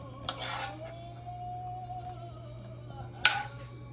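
A spoon scrapes and clinks against a plate twice while serving cauliflower rice in a home kitchen, with a steady oven or appliance hum running beneath and a quiet pause between the two sharp utensil hits.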